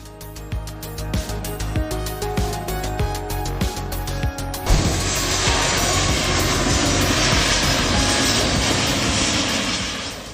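A landing airliner with two engines roars through thrust reversal, starting with a rhythmic rumbling and clicking, then jumping abruptly to a loud, steady, broadband rush that slowly fades near the end.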